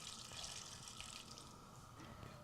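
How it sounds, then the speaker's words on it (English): Boiled kettle water is poured into a pot over lobster shells, giving a steady, faint, hissing splash that runs continuously throughout. "I'm just going to pour enough water in to cover these shells"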